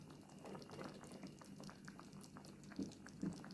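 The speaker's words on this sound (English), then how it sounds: "So I'm gonna let it simmer until the sauce reduces some more." Snapper fillet gently simmering in a coconut cream sauce in a pan, a steady soft bubbling and light patter throughout, with a couple of slightly louder blips near the end.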